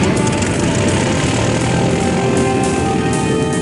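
A modified single-engine Douglas Northrop Gamma propeller airplane drones loudly and steadily throughout, a dense continuous engine and airscrew roar with no pauses and no voices.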